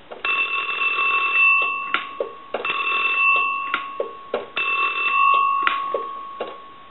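An Entel Cool UK rotary desk telephone under repair rings its bell in three close, loud bursts, each about a second and a half long and separated by short gaps, with no talking.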